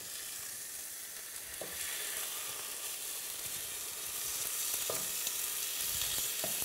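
A salmon medallion fries in a pan and is broken apart with a utensil, giving a continuous close sizzle with a few sharp scraping taps as the fish is pushed around.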